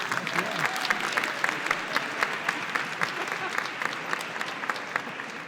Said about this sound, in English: Let's give a huge, huge round of applause to Chairwoman Nicole Love Hendrickson